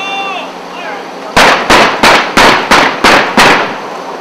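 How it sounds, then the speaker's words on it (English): Seven loud, sharp booms fire off in quick succession as police detonate explosives found in a Riverside home, each blast ringing out briefly, after a faint high tone at the start. "we actually did hear the loud booms go off as these explosives were being detonated"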